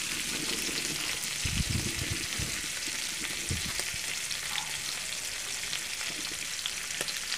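Chicken gizzards sizzling and frying hard in a pan with butter and tomato paste, a loud constant crackling hiss with occasional stirring scrapes and clatter near the start.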